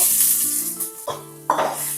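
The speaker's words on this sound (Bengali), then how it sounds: "যতটা তেল থাকবে সেই তেলের মধ্যে সয়াবিনটাকে ভেজে নেওয়ার সয়াবিনগুলোকে ঢেলে দেব" Soya chunks fry in hot oil in a pan, a close, steady sizzle with a couple of sharp bursts as pieces hit the oil or get stirred.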